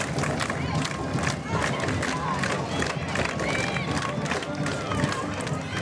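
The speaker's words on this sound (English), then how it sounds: "Step out and the crowd goes nuts. It's just building and building." A crowd at a high school softball game roars and cheers steadily, with scattered claps and shouts building under a commentator's voice.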